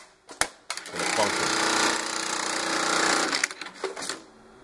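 Juki industrial sewing machine cycling with the stacker off, a steady loud mechanical whir for about three seconds framed by short clicks and thumps, with someone talking around it.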